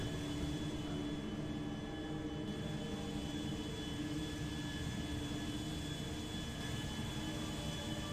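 An airplane flies in the game GTA 5 during a sandstorm, a steady broad engine roar and rushing wind that stay loud and constant for several seconds, with no talking.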